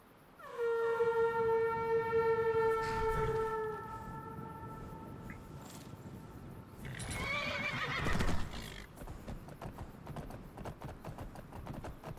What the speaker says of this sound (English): Let's go ahead and call the horse.